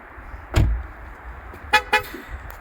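An electric car's horn gives a short toot on locking, followed by a quick double beep, fairly close, with faint mechanical clicks and quiet surroundings between them.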